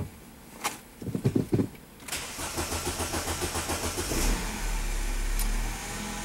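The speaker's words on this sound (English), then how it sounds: "Start the engine." A Mini Cooper engine with VANOS faults P0014 and P0017 cranks with several rapid pulses, catches, and settles into a steady loud idle close by.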